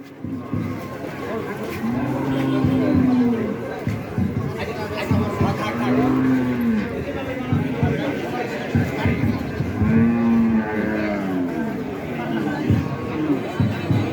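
Cattle low repeatedly at a crowded village cattle market, drawn-out moos rising every few seconds over steady crowd babble and voices talking nearby.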